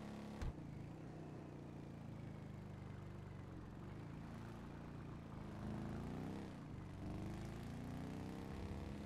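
A car in the GTA FiveM roleplay game rumbles past, its engine tone rising and falling as it approaches and recedes, faint and continuous under a low background hum.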